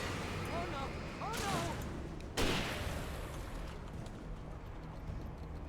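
Gunfire in the video game Alan Wake: a dense, noisy burst of shots with one sharp loud crack midway, heard over steady game ambience and background noise, with a voice speaking briefly.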